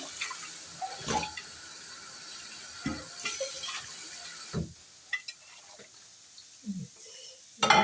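Vegetables washed under running water in a home kitchen, with intermittent splashing and rinsing bursts of moderate loudness, then quieter handling noises and brief water sounds toward the end.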